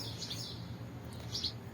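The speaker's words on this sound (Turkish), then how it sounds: "Şuraya kuş yuva yapmış." Small birds nesting in a gap above a boiler on a balcony give faint, high chirps in a couple of brief bursts over a low steady background hum.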